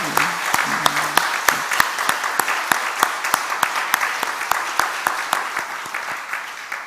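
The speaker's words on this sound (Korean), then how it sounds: "위로의 박수를 한번 드릴까요?" A church congregation gives applause of consolation to grieving family members, a dense even clapping of many hands, with a faint voice briefly heard at the start before the applause carries on alone.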